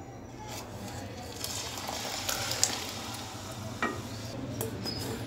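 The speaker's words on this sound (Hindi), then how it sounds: "ये देख लें, ये शीरा डालने लगी हूँ।" Sugar syrup poured into carrot halwa cooking in a pan gives a soft, steady bubbling and frying sizzle with occasional stirring clinks, faint and close.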